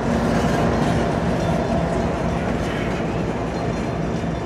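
A CSX freight train led by locomotive 9005 rolls past, giving a loud, steady rumble and rattle of railcars that fills the scene without any break.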